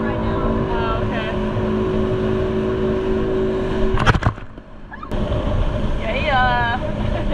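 A jet ski engine roars at full throttle off the Exuma islands in the Bahamas, a loud steady buzzing drone that cuts out abruptly after a splash, then picks back up, with a voice speaking briefly near the end.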